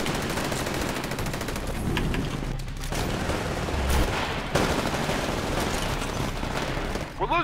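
Gunfire from a weapon in the video game Titanfall, a dense, continuous stream of loud shots with heavy low rumble and explosive bursts throughout, up close with no clear pause.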